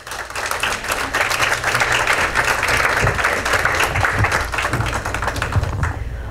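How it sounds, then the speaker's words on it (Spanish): Warm audience applause for a family's children at an evening gathering, steady crowd clapping with some sharper close claps, continuous and fairly loud before easing off. "Un fuerte aplauso para ellos,"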